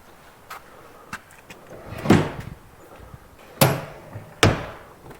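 A campground bathroom door opens and shuts, giving a few sharp knocks and thuds spread over several seconds, close by against quiet outdoor background.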